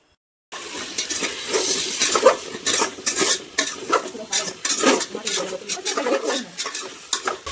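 Pumpkin pieces being stirred in hot oil in a pot, with scraping and clinking of a utensil against the pot over a soft sizzle, fairly close and continuous.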